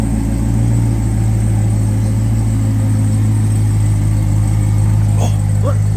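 A Chevrolet Corvette ZR1 runs at a Dallas drag race event, its loud steady engine drone close by with a brief rise in pitch near the end, under crowd and outdoor noise.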